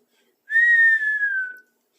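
A single clear whistled tone for a storybook dragon, held about a second with a slight downward glide, close and alone.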